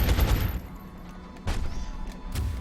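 Gunfire in the XCOM video game: a loud burst of shots opens, and two further sharp cracks follow about a second apart, each fading quickly into a low background.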